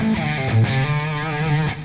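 Electric guitar played through a Flatsons KMF-1 multi-effect pedal on preset 10, a short distorted phrase of a few sustained, overdriven notes ringing loud and close, with no voices.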